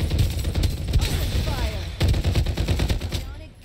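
Rapid automatic gunfire in the battle royale game Farlight 84 rattles in dense, close bursts, with a brief pause and a second string of shots while a voice talks over it.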